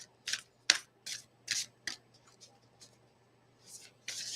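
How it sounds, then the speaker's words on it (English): An angel card deck is shuffled by hand in a quiet room, giving a series of short, crisp papery riffles and slides in irregular bursts. The sounds are close and fairly soft, with brief pauses between them and no talking. "You can see me shuffling them."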